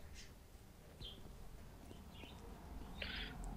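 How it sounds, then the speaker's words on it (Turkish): A bird calls in the game CS:GO, a few short, faint chirps scattered over a low in-game background hum, with no talking. "bu kuş yine bağırmaya başladı"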